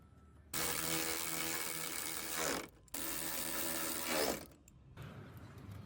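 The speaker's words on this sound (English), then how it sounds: "we're going to go ahead and come up to the top and put our last 2 bolts in." A hand tool tightens the last headlight assembly bolts at the top of a 2007-2013 Toyota Tundra, giving two long, loud close bursts of rapid mechanical whirring separated by a short pause.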